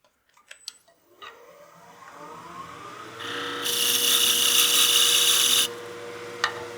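A wood lathe turns a snowman hat blank as material is cut away. A few sharp knocks come first, then the spin-up hum, and then a loud steady scraping rasp that stops abruptly.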